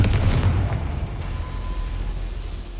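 A Confringo explosion spell in a video game goes off as a deep booming blast that rolls into a fading low rumble, loud and close, with no talking over it.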